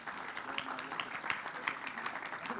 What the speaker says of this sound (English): Big round of applause for Professor Peter Jones